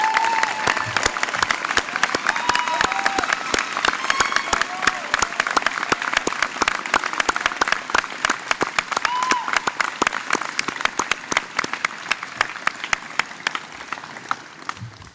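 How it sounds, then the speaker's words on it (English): Sustained applause from a graduation ceremony audience, dense steady clapping that continues for the full stretch at a consistent volume, with faint crowd murmur and a voice briefly audible beneath it. "Please join me in a round of applause"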